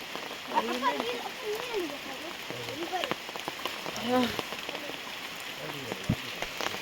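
Steady rain patters on a farm in the Malnad area near Thirthahalli, a soft constant hiss with scattered drops, while people talk nearby.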